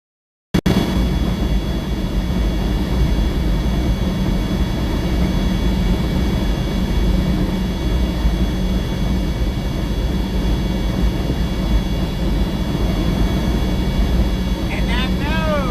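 Inside a truck cab on a highway ride from Sonora to Houston, Texas, with no noise reduction, road and engine noise form a loud, continuous roaring drone that stays steady throughout.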